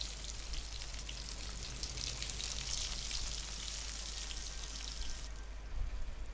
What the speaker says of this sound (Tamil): பூண்டு சேர்த்து நல்லா வதக்கிக்கலாம்.